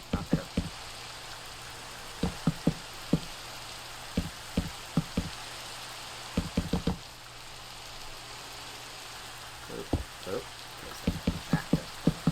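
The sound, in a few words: rain falling in a video game, creative mode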